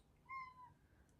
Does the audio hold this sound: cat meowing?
yes